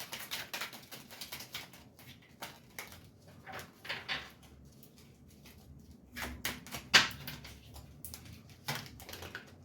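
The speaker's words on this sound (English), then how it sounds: "Two more shuffles and I'll pull from the top." Soft, rapid riffling and patting of a deck of tarot cards being shuffled, in short bursts with brief pauses, close and fairly quiet, with no talking.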